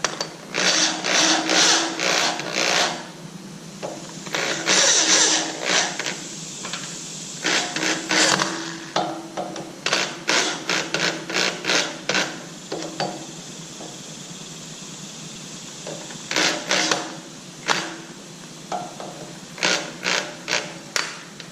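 Power tool driving screws into a garage lift set up for a Jeep JL, heard as repeated loud whirring bursts, each a second or two long, separated by short pauses, close by with no talking.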